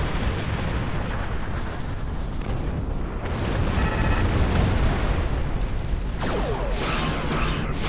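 Romulan warbird weapons firing in Star Trek Online, a steady barrage of booming blasts and bursts running throughout at high, dense loudness, with brighter zapping shots near the end.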